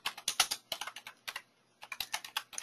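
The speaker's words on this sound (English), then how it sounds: "You can type in your subject line" Rapid keystrokes on a computer keyboard while an email subject line is typed, close and crisp, in quick irregular bursts with a brief pause midway.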